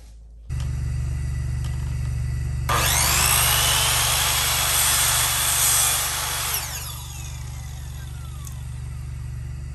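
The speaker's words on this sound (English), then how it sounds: "So we've got an Aero finish nailer here. That's what we're using. It's electric, just plugs in." An Aero electric plug-in finish nailer working on a nursery chair rail runs as a loud, steady machine noise for several seconds over a constant low mains hum, then drops back to the hum alone.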